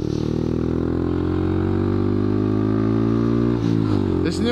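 Honda Grom motorcycle fitted with a new FMS exhaust system idles with a steady, loud harmonic drone close by, then blips into a short rev with rising pitch near the end.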